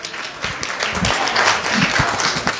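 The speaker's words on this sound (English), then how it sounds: "Please give them a big round of applause." Brief, close applause from an audience after a performance at a Tamil Heritage Month and Thai Pongal celebration in the Ontario legislature, with dense, steady clapping over a couple of seconds.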